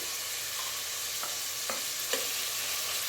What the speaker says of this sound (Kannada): ಈರುಳ್ಳಿ ಫ್ರೈ ಆಗ್ತಿದೆಯಲ್ಲ, ಈಗ ನಾನು ಶುಂಠಿ ಬೆಳ್ಳುಳ್ಳಿ ಪೇಸ್ಟನ್ನ ಹಾಕ್ಕೊಳ್ತಾ ಇದ್ದೀನಿ.